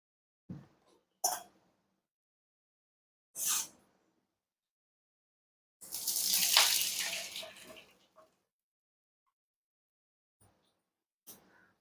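Water poured from a glass into a pan for vermicelli, one splashing pour of about two seconds, with a few short clinks and noises before it and silence between.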